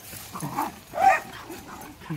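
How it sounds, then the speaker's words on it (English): Dogs give short barks and yips near a swamp, a few quick bursts with a louder yelp in the middle, mixed with brief human voices. "Attack of the dogs."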